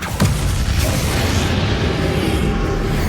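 A Confringo blasting spell goes off in Hogwarts Legacy, a loud booming burst near the start that gives way to a dense, sustained rumble of fire and debris.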